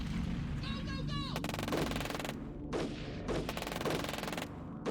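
Rapid gunfire from a turn-based strategy game as troops shoot at rebels, a chattering burst followed by several repeated loud volleys over steady game music, with a voice talking in places.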